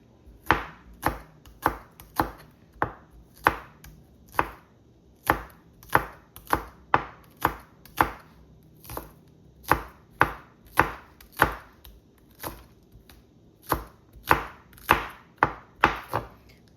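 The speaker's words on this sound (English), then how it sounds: "I'm going to do the white part first, and then chop it up small, and then we'll go with the green part, our portion, the scallion." Knife chopping scallion on a cutting board for Jamaican saltfish fritters, a steady run of crisp, close taps that come in quick bursts with short pauses, no talking.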